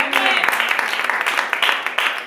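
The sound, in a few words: congregation applauding in church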